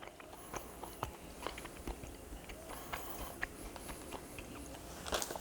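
Crunchy chocolate caramel snack bar with an allulose-sweetened, Twix-like texture, chewed close up with small irregular crunches and bites over a steady low background, no talking.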